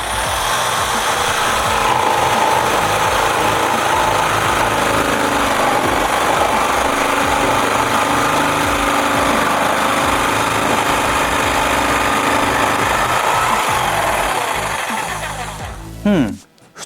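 A WORKPRO 600W jigsaw at speed 1 cuts pine laminated wood with a loud, continuous buzzing rasp of the blade, running steadily until it stops abruptly near the end.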